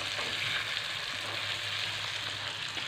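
Bitter gourd pieces fry in a pan with a constant, even sizzle, close and moderately loud, with no break and no voices.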